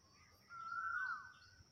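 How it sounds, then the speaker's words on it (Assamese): A koel calls outdoors in an open farm field, a single rising-falling whistled note standing out clearly over a faint steady background hum. "ইফালে কুলি চৰাই মাতিয়ে আছে।"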